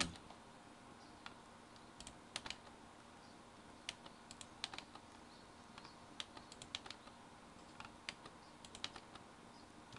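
Computer keyboard keys are pressed while drafting in AutoCAD, with faint, irregular clicks and short bursts of typing over a quiet room hum.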